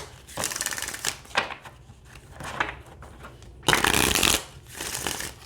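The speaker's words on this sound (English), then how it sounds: "So it shuffles really, really nice." An oracle card deck being shuffled by hand, with repeated bursts of riffling and flapping cards, the loudest near the end, with quiet gaps between them.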